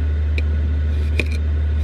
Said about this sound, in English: Can you hear that diesel heater kicking in now?